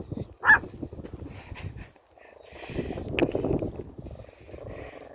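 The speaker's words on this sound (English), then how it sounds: "I don't know what he's barking at" A single sharp dog bark rings out near the start, followed by low rumbling movement and some faint background noise.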